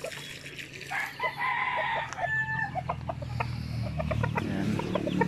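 Several chickens in a rural yard cluck and squawk close by while being given drinking water, one crowing briefly, over a low background rumble and some splashing water.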